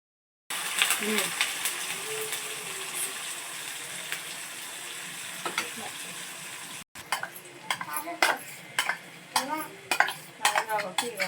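A spoon stirs and mixes chutney in a pan with chopped curry leaves, giving a steady scraping hiss, then a run of distinct clinks and scrapes against the metal.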